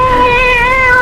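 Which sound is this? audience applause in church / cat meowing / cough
cat meowing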